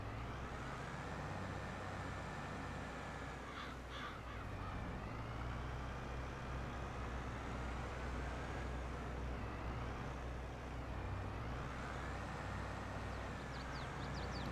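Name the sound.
large tractor engine running, from the video game Farming Simulator 22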